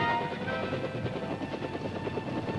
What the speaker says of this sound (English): To spot enemy concentrations under the umbrella of dense jungle foliage, light observation helicopters were used.